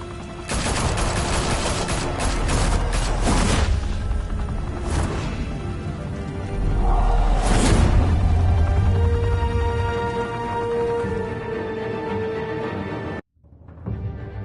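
Guns opening fire in a Batman game, a loud dense volley of overlapping shots and blasts that carries on as a heavy rumbling roar, then cuts off abruptly near the end.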